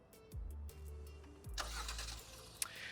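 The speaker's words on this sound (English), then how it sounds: "press and hold the remote start button." A 2021 Hyundai Sonata, locked, fires up by remote start: a few rising starter cranks give way to a steady low engine idle, close by, with a sharp click near the end and no talking.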